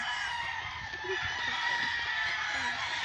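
Chickens cluck and a rooster crows amid a busy, noisy barnyard din in an enclosure made from a swimming pool, with faint voices in the background.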